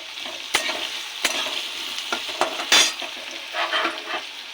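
Grated ginger going into potatoes frying in a pan, a close sizzle punctuated by several sharp spoon knocks and scrapes against the metal.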